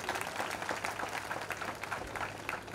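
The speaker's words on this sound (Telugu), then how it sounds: "అమ్మ నాన్నలకు ఒకసారి గట్టిగా క్లాప్స్ కొడితే నాకు వినాలనుంది" An audience at an engineering college orientation programme applauds parents, giving a fairly faint, steady burst of clapping from a large hall crowd that lasts throughout.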